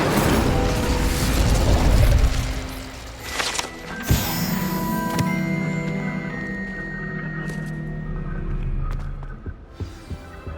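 Incendio fire spell cast in Hogwarts Legacy: a dense roaring whoosh of flame that swells, then a sharp burst and crackling, settling into a sustained rumble with scattered pops and a fading tail.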